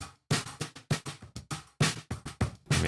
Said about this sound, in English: Then we have two layers of other percussion, and these are just like loops.